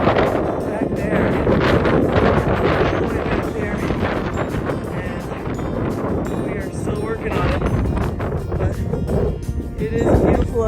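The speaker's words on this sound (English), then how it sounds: "It's a windy afternoon here in Utah" Strong gusty wind buffets the microphone in loud, continuous rumbling bursts on a high mountain trail in Utah's Red Canyon, with no quiet gaps throughout.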